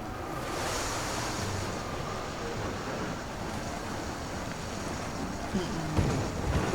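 Water and waves in the video game The Legend of Zelda: Tears of the Kingdom, a steady broadband wash of surf and splashing with wind-like rush that holds a constant level, with a few slightly louder sloshes near the end and no speech.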